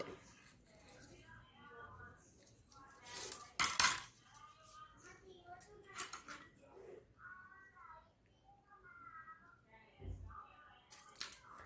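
Paper being cut with scissors to make a waterproof friendship band: a few sharp, close snips and crisp rustles, the loudest around the middle, between quieter handling noises and faint background voices.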